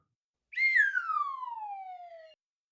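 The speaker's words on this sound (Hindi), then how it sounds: "कौन सीटी बजा रहा है इतनी रात को?" A single long falling whistle in the night for a Hindi horror tale, starting sharp and high then gliding steadily downward for nearly two seconds before cutting off into silence.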